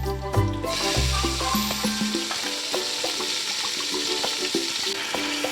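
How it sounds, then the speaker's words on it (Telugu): Onions, green chilies and curry leaves fry in hot oil for chicken biryani, a steady close sizzle with occasional stirring clatter in the pan. "ఉల్లిపాయ పచ్చిమిరపకాయ వేగాయి ఇప్పుడు టమాటాలు వేసుకుందాం"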